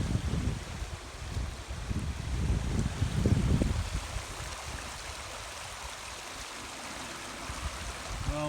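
Stream water rushes over fallen logs beside a stony bank campsite, a steady soft outdoor wash of flowing water mixed with light wind noise, fairly quiet and with no voices.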